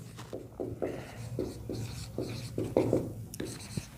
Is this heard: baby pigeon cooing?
no